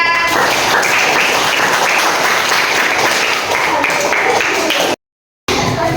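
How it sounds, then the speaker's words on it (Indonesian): Classroom audience in an Islamic religious education lesson bursts into loud, dense applause that runs steadily for several seconds with high-pitched cries mixed in, then cuts off abruptly before a brief resumption. "Tepuk tangan."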